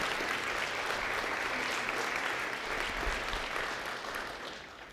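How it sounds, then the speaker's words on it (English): Applause for a high school cheer squad fills a school district event, a dense, steady clapping from a sizable crowd that holds for several seconds before tapering off. "how about a round of applause for our CVHS cheer squad who's here today"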